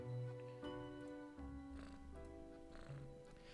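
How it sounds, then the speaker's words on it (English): A cat purrs softly in the video game Death and Taxes, a low continuous rumble beneath steady background game music, quiet and close with no voices. "The cat seems to be in slumber, occasionally emanating a soft snore-like purr."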